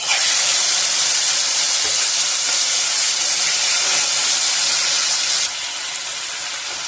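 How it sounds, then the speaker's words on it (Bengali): Prawns frying in hot oil give a loud, close, steady hissing sizzle that holds strong, then eases slightly in level near the end. "তেলটা গরম হয়ে গেছে, এবার চিংড়ি মাছ কটা ভেজে নেব"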